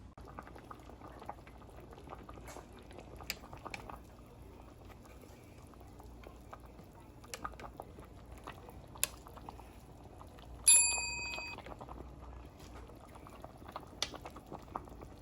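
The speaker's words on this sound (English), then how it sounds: "I want to let y'all hear the boil." Cabbage and corn boil bubbling in a home kitchen pot, a quiet steady simmer with scattered soft pops and gurgles, faint and close, with one brief sharper clink partway through.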